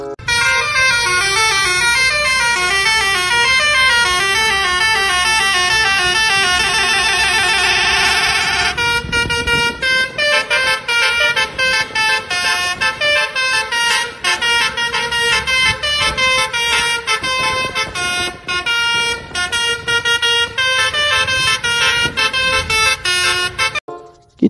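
An Eka Persada Ken Arok bus blasts its musical horns in a long, loud melodic sequence of repeated tooting phrases, close and continuous, shifting pattern partway through with no talk.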